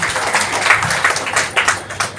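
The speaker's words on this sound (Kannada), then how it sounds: "ಜೋರಾಗಿ ಒಂದು ಚಪ್ಪಾಳೆ ಬರಲಿ ಮೇಡಮ್ ಅವ್ರಿಗೆ" A scattered round of applause for a woman teacher at an International Women's Day event, with hands clapping in uneven bursts at moderate volume.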